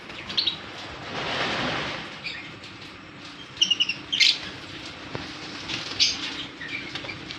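A one-year-old lutino cockatiel gives short, scattered chirps and tweets, moderately close, with a faint hiss of background noise and a brief flutter between calls.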